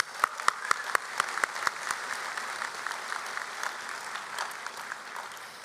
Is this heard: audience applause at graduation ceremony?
yes